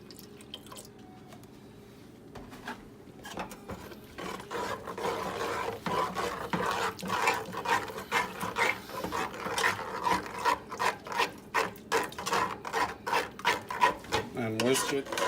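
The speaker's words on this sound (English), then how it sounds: "And whisk it." Whisk scraping and sloshing rhythmically through milk in a cooking pot while making béchamel, starting softly and building into steady, fast strokes with faint voices under it.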